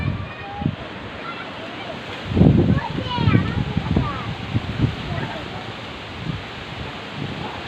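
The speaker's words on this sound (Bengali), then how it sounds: "এখনো অনেক বাতাস" Strong gusty wind blows during a rainstorm around a waterlogged house with areca palms nearby, a broad roaring rush that swells in the middle, with voices heard faintly.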